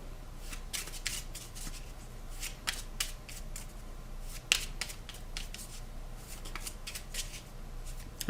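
Cards for Dark Souls: The Card Game are shuffled by hand at a table, a quiet, close run of rapid papery riffles and flicks with small taps, continuous and without talk.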